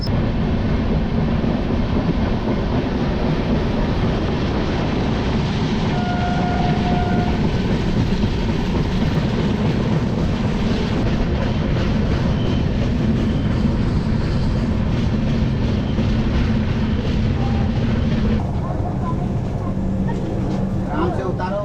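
The Gondia–Barauni Express train rumbles steadily along the rails, a loud continuous roar with rattling wheels that holds evenly from start to finish.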